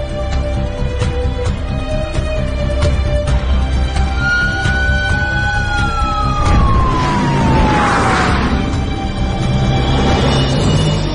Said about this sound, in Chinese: 救护车来